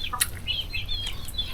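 Chickens cluck and flap their wings nearby, with thin chirpy calls and soft feather rustles over a steady low outdoor rumble, continuous through the short stretch.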